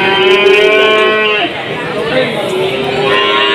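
A Limousin Simmental bull calf at a cattle market in Tuban gives a long, loud, close moo that wavers and trails off, with crowd chatter and a voice in the background.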